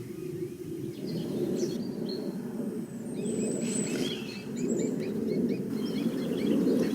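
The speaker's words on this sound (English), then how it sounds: "Currently in the background you can hear some European robins singing." European robins sing in the background of a garden near Pagham Harbour, UK, thin high warbling phrases drifting in and out, faint and distant over a steady low rumble of ambient noise.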